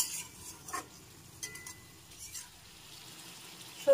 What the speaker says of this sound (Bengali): এখন আরো একটু নেড়ে চেড়ে নিচ্ছি